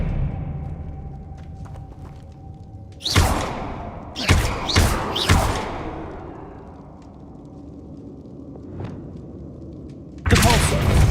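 Spell effects from Hogwarts Legacy: a few sharp whooshing bursts land in quick succession, then a heavier blast near the end, each loud against a quiet, low ambient background.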